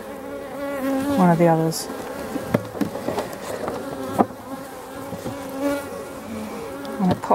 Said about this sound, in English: these bees don't seem to be going very far